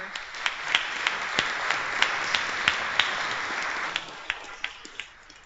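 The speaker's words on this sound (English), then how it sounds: "Just maybe give them another round of applause for." A room full of people applauds, a dense wash of clapping with a few sharper individual claps standing out, tapering toward the end.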